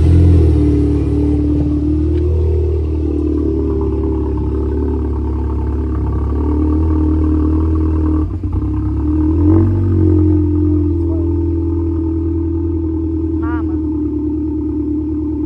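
A Volkswagen Golf 7 R engine starting after turbo and intake cleaning, running with a steady low rumble, rising briefly into revs a couple of times, loud and close throughout.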